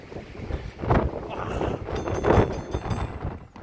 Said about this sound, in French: un coup de vent.